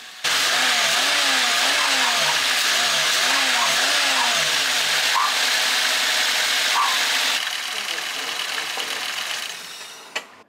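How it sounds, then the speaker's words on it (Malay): A car engine runs loudly with a wavering, rhythmic revving pattern at first, then steadies into a constant drone that fades slightly near the end. "Sekarang ni kita try start balik enjin"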